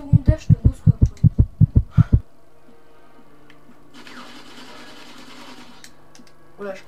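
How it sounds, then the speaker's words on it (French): Heartbeat of a wounded player in GoldenEye 007 Reloaded: about a dozen loud, evenly spaced low thumps over two seconds, then a quiet hum with a brief burst of game noise near the end. "Vous entendez le battement de cœur?"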